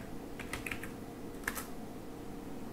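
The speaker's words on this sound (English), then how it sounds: "start typing the command" Computer keyboard typing a command on a Windows 10 PC, a few quiet, crisp key clicks in short bursts with pauses between, close and faint over a low room hum.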